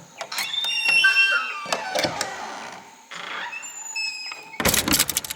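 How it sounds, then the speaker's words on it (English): A door opening as a story sound effect, with creaks, clunks and rattling mechanism sounds, and a loud burst of knocking or thudding near the end. "right when they got there, Luke saw the door open"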